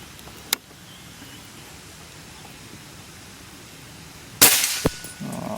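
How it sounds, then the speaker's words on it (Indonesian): A single sharp, loud PCP air rifle shot cracks out near the end, followed by a brief metallic ring of the target being hit, after near silence with a faint earlier click. "Langsung saja tembakan yang pertama."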